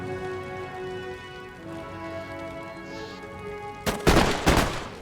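Line infantry in the video game Empire: Total War fire a musket volley: a ragged cluster of loud cracks bursts out near the end, after a stretch of quiet, sustained background music.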